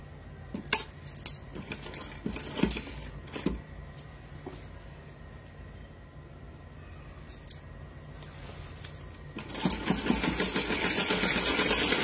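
A sewing machine stitches matching lace onto a small devotional garment for a Laddu Gopal idol, with clicks and handling noises early on and a steady, louder machine run building near the end; no one speaks.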